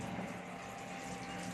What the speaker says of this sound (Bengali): পরিষ্কার পরিচ্ছন্ন করে ধুয়ে নিচ্ছে চিকেনটা